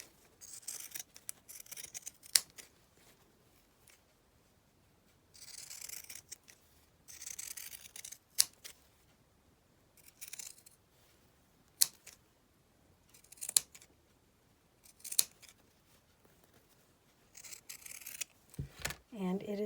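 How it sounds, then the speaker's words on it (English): Pinking shears cut through paper for a Christmas tree decoration in a series of short, close snipping bursts separated by brief pauses, about a dozen crisp cuts with quiet gaps in between. "And I'm going to cut that with my pinking shears."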